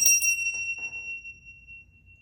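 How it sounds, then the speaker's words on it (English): A small bell rings twice in quick succession, a bright clear ding that lingers and slowly fades away in a quiet room. "I'm being called to ring this bell."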